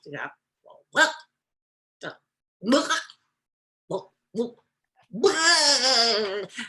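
A storyteller's voice imitates a cat coughing up a fur ball: several short hacking, retching bursts separated by pauses, then a long strained, tonal gagging sound at the end, close and fairly loud.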